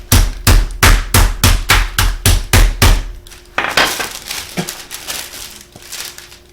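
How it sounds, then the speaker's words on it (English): Raw chicken breast pounded flat with a meat mallet in a home kitchen: about ten firm, evenly spaced thuds in quick rhythm, then a pause and a few softer scattered knocks and handling sounds, close and loud with no talk. "let's go ahead and take our chicken now. And I'm just going to flatten it till between 3/8 and 1/2 inch"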